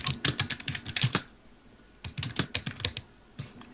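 A computer keyboard clacks in quick irregular bursts of keystrokes close to the mic during a Minecraft survival session, with a short pause partway through before the typing resumes.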